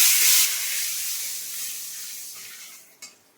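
Bay leaves hitting hot oil for egg curry, a loud bright sizzle burst at first that settles into a softer steady hiss and fades, with a small clack near the end.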